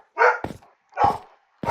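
Dogs keep barking in a steady rhythm, three quick barks about half a second apart, fairly close and clear, with no voices over them.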